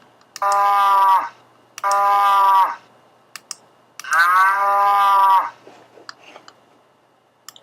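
Cow mooing sound effect previewed in a game asset tool: three long, clear, tonal moos separated by short silences, each close and loud, followed by a few faint clicks.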